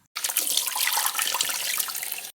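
A dense, hissy burst of bright noise lasting about two seconds, steady and sustained like a wide-open noisy hi-hat hit, heard alone.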